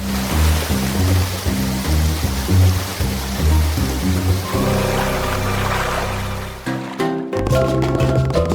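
Water pours as toy rain to fill a doll house pool, a continuous splashing trickle heard under steady, rhythmic music that briefly cuts out near the end.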